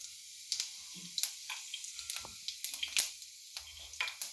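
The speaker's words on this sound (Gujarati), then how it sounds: "આપણું જીરું થોડું તતડે" Cumin seeds crackle in hot oil with a dried red chilli, sparse little pops and spits scattered over a faint sizzle, quiet and close.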